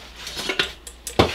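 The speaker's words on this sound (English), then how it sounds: "Fry pan with folding handles, stainless steel." Small stainless steel fry pan with folding handles being handled outdoors, giving a few light metallic clinks and taps spread unevenly over a second, the last knock loudest, with no talking.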